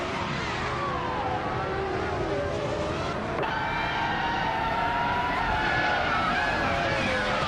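Race cars roaring off the start line in a racing game, several engines revving hard and climbing in pitch together, loud and sustained with a sharp shift partway through.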